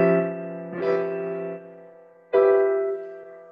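A sustained harmonic chord built from the octatonic scale, giving a sense of semi-rest, sounds twice: a held chord swelling and fading, a short gap, then a second loud attack that rings out.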